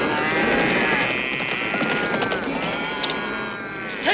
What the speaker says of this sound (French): Un troupeau de bestiaux.